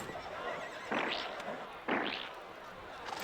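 Horses neighing in the RollerCoaster Tycoon 3 video game, two short bright whinnies about a second apart over a faint background bed, with no talking.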